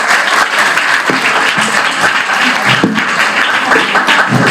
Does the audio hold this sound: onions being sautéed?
no